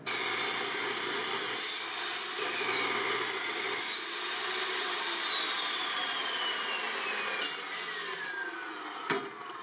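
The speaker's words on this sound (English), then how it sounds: "I can use the die grinder to open this out a bit more" A die grinder opening out a drilled hole in a steel bar for a giant axe build, a continuous high whine with a slowly shifting pitch as the bit bites into the metal, steady and close.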